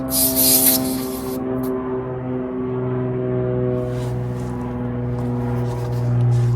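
A HyperTough dual-power tire inflator hose being screwed onto a car's front passenger tire valve: a short, loud burst of air hiss at the start, then a steady low mechanical hum that continues to the end.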